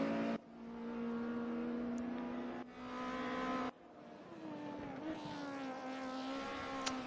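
DTM 1992 race cars warm up on track at Autodrom Most in RaceRoom, engines droning and revving in sustained tonal bursts that cut off and resume, ending in a rising, swelling engine note.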